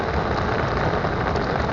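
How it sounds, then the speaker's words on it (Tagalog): Heavy rain pouring down outdoors on a fishing trip, a dense, loud, unbroken roar of rainfall with no pauses, close and alone without voices. "Grabing ulan, hindi matigil ang ulan."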